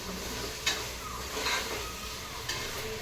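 A tempering of spices sizzles in a hot pan as the finishing touch for a vegetable dish, a steady close hiss with a few light stirring scrapes and no speech.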